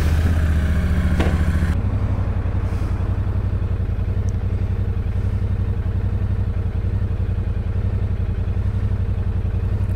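A Royal Enfield Shotgun 650 motorcycle engine while riding, a steady low throbbing note after a brief louder rev at the start, continuous and close with no talking.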